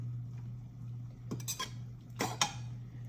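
Butter being mixed into cooked pasta in a pot, a few faint metallic clinks and scrapes of a utensil against the pot over a steady low hum.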